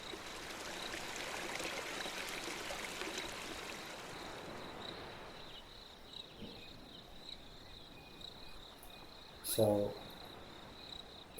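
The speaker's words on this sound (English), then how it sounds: "when the crickets come in, we get that typical summer feeling" A summer ambience from the video game Shrommzzz carries a thin, steady insect chirp over a faint trickling bed. A voice speaks briefly, and near the end a short louder knock cuts in.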